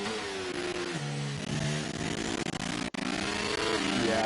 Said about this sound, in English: Engine sound on board is awful.